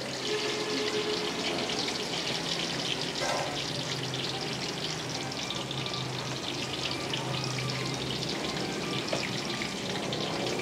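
Tofu with lemongrass fries in hot oil, giving a continuous bright crackling sizzle with scattered pops, steady and close with no talking.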